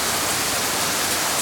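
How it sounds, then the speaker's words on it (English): Hail patters during a strong thunderstorm in central Oklahoma, a dense, loud hiss of impacts mixed with heavy rain, continuous and unbroken with no voices. "Can you guys hear the hail popping in a little bit?"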